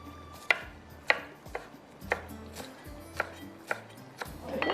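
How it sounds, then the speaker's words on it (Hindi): Fresh coriander is chopped finely with a knife on a board, giving a steady series of crisp, evenly spaced taps, close and clear with a light background hiss. "हरा धनिया है, इसको मैंने ब्लेंडर में नहीं डाला, इसको मैं थोड़ा सा बारीक चॉप करके डालूंगी"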